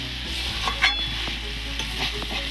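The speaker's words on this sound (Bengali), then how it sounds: "ভালো করে কষলে অনেকক্ষণ ধরে কষলে মাংসটা খেতে ভালো হয়" Meat sautéed and stirred in a pan for a curry, with oil bubbling: a steady close sizzle carries a few light scrapes and clinks of the spoon, and no one speaks.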